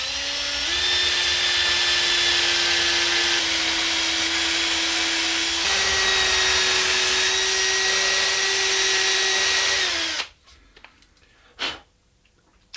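An electric drill with a 2.5 mm bit bores into a guitar body, a steady high whine holding pitch for about ten seconds before cutting off, followed by a few light handling clicks.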